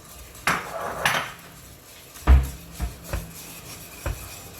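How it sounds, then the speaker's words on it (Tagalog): A utensil scraping and knocking against a pan while grated cheese is stirred into white sauce, several irregular clinks and scrapes close by, no talking. "Then continue stirring it."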